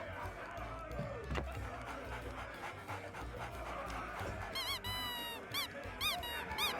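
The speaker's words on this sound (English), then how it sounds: "Yo, it's squeaky." Squeaky monkey toy in a video game, several sharp rubbery squeaks in quick succession over a steady game background with panting sounds.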